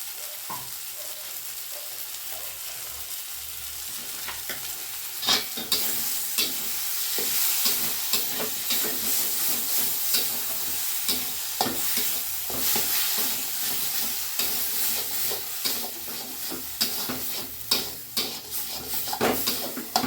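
Ash gourd filling stirred and fried in a pan with kasuri methi and ghee: steady sizzling throughout, broken by repeated scraping spoon strokes against the pan, close and continuous with no talking.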